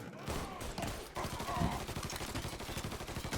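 Close, loud gunfire in the Mafia 3 video game during a shotgun fight, a rapid series of booming shots packed tightly together for a few seconds.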